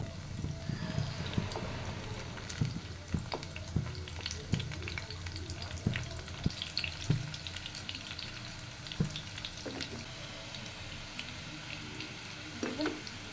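Fritters (boras) fry gently over a low flame with a soft, steady sizzle. Faint bubbling runs under the sizzle, and light taps of a spatula come at irregular moments.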